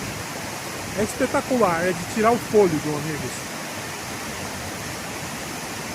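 The Cachoeira da Torre waterfall in the Serra do Mar pours with a steady broadband rush that stays even throughout, while someone speaks briefly over it in the middle.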